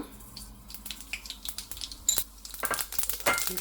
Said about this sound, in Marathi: तेल घाता, राई घाता